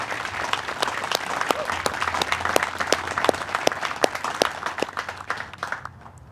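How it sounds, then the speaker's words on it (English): Sustained applause from an audience at an Army officer candidate school graduation ceremony, dense steady clapping with a few sharper claps standing out, fading near the end. "Let's give a big round of applause to these candidates for their outstanding accomplishment."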